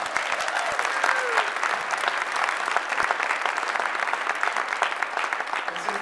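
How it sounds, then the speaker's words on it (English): Audience applause for political leaders at a speech, a steady, crowded clatter of clapping that stays fairly loud and even for about six seconds with a few sharper individual claps. "Let's give them all a round of applause"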